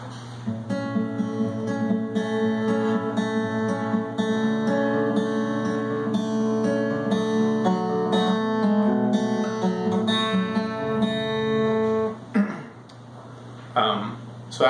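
Close, solo acoustic guitar fingerpicks a song's pattern from the start, with steady ringing arpeggiated notes for about twelve seconds before a short pause and faint noise.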